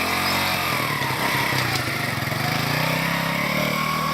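A motorcycle engine runs steadily and close by, a dense continuous buzzing drone with a slight rhythmic flutter and no pauses throughout.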